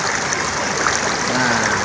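A clear river stream in the Jonggol area of Bogor flows in a steady, even rush of water that fills the scene, close and continuous with no talk.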